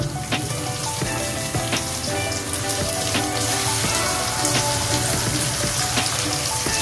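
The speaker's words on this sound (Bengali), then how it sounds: "এবার এই টমেটো পেস্টটা একটু লবণ দিয়ে ঢেলে দিলাম" Tomato paste with salt sizzles steadily in a pan over high flame alongside fried eggplant for a masala roast, a dense continuous crackle with small pops throughout and no voices.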